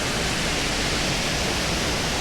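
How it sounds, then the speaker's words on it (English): A real waterfall at a temple entrance in Taipei gives off a steady, dense rush of white water, an even broadband roar that holds without a break and has no voices over it. "a real waterfall"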